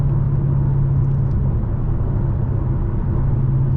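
A 2020 Dodge Challenger Scat Pack Widebody with opened exhaust accelerates, giving a steady, loud low rumble and a droning hum heard from inside the car.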